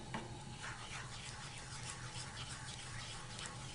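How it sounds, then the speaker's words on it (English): A spoon stirring mushrooms in a boiling pan sauce of a chicken recipe, faint scraping strokes over a steady low bubbling and sizzle, quiet and continuous with no talk. "Keep stirring."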